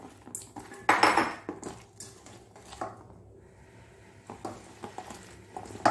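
Salted bitter gourd is mixed into batter in a bowl, with close clinks of a spoon against the dish and soft squishy stirring in uneven bursts, no talk.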